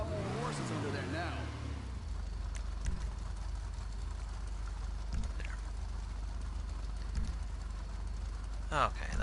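Boosted car engine running with a steady, loud, low droning roar and broad rushing noise throughout, marked by a few faint clicks and a short rising whine near the end.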